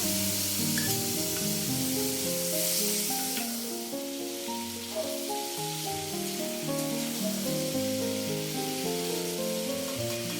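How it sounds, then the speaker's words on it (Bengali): Spice paste sizzles steadily in a hot wok while fish-head pieces are added, a loud continuous frying hiss close by with no talk over it. "এদিকে দেখো কড়াইয়ের মধ্যে দিয়ে দিলাম মশলাটা"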